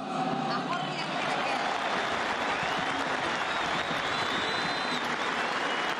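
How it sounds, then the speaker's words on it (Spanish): Steady applause from an audience at a Peruvian football club event, honouring a group of student federation members; dense continuous clapping throughout, with voices and murmuring mixed into the crowd noise. "por quienes pido un gran aplauso"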